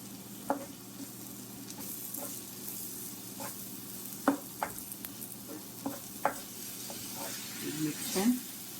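Coriander stems get stirred into smoky butter chicken in a pan, giving a low steady sizzle with soft scraping and clicking from the spoon, and a voice speaks now and then over it.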